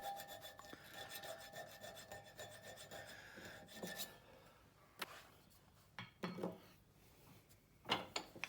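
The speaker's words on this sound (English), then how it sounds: "The edges are cleaned up with a file and my part is done." A hand file rasping along the edges of a rough metal gear casting, with quiet, uneven scraping strokes close up, followed by a few sharp clicks and knocks.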